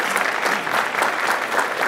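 An audience applauds steadily to welcome two leaders, Joseph E. Aoun and Amin J. Khoury, to the stage for a fireside chat, a dense, even wash of clapping for the whole stretch.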